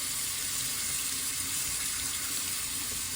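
Steady broadband rush of water running from a tap into a sink while a wig is being washed and rinsed of shampoo, loud and continuous throughout with no talk.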